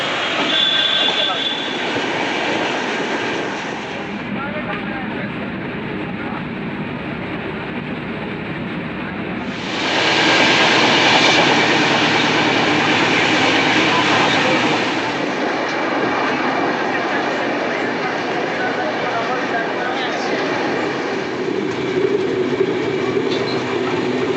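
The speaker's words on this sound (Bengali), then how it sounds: "আমরা আজকের এই ট্রেন 13145 কলকাতা রাধিকাপুর এক্সপ্রেসের প্রথম হল স্টেশন" The 13145 Kolkata–Radhikapur Express runs out of Kolkata station toward Patipukur and Dum Dum, with a loud, steady rolling rumble that swells louder about midway and continues without a break.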